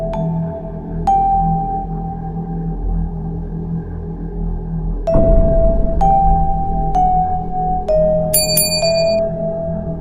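A notification bell sound effect rings out as a series of clear, bright metallic dings at irregular intervals over a steady low drone, ending in a quick cluster of higher chimes.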